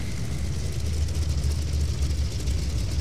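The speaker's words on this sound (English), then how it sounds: "Listen to them old engines." The old piston engines of a Grumman F7F Tigercat in a flight simulator drone steadily, a deep continuous rumble with a rough throbbing pulse, heard close and alone.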